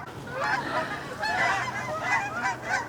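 Several geese honk repeatedly in overlapping bursts, loud and nearby, a noisy flock calling with no speech.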